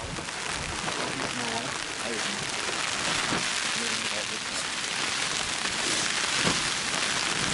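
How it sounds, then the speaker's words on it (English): Steady, heavy rain pattering on a surface at an Alaska hunting camp, a constant dense hiss throughout, with faint voices talking beneath it. "we're still waiting for the rain to let up."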